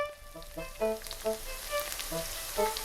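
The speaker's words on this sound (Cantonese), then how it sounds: "最後入油鑊炸透" Salted egg yolk pastries, wrapped in lard and coated in egg and breadcrumbs, deep-fry in a wok of oil with a soft, steady sizzle and crackle under a light melodic tune.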